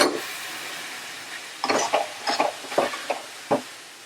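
Thick masala paste for Punjabi rajma is scraped from a pan into a pressure cooker, making a faint sizzle followed by several soft, uneven scraping and clinking knocks of a spoon against metal.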